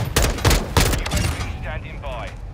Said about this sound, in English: sí, es Airstrike.